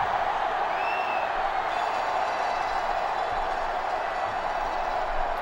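A large crowd roars steadily in a video game stadium in NCAA Football 06, a continuous dense wash of cheering with no pauses.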